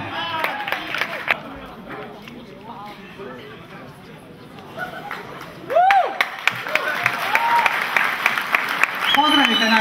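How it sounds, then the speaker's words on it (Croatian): A crowd at an evening singing contest breaks into applause and cheering for the winner, clapping swelling loud over a murmur of chatter and a voice over a microphone. "Pozdravite našu pobjednicu još jednim velikim pljeskom, zaslužila je to."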